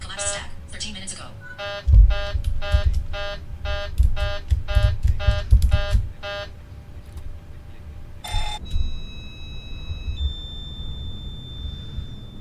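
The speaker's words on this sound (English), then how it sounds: "That's the noise it makes from the outside when the fire warning is going off." Fire warning alarm of a PMDG 600 airliner in a flight simulator, heard from outside the aircraft: a rapid repeating electronic bell-like ringing in quick bursts over a low rumble, then steady high tones.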